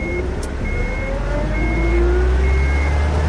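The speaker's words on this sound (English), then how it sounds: "Crap, they started the engine." Truck engine starting in the video game UnMetal: a low, steady diesel rumble building and settling into idle, with faint tonal beeps on top, fairly loud and without talk.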